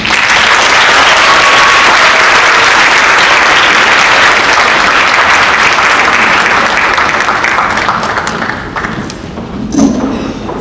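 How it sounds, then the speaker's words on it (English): A large audience breaks into loud, sustained applause at an anniversary storytelling event about high school championship seasons, dense clapping holding strong for about eight seconds before thinning out and fading near the end. "Another round of applause for our state champ."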